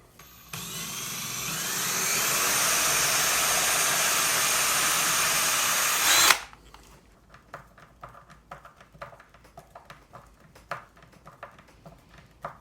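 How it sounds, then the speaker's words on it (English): A power drill bores screw holes in a Squier Stratocaster guitar body for the pickguard, whirring loudly and steadily for about six seconds before cutting off, followed by quiet clicks and handling noises. "So when you're drilling in, you know you've only got to go that far"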